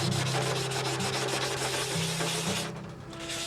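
Steady abrasive rubbing of sanding silver paint on a model aircraft wing, continuous back-and-forth scraping close by, with no talking.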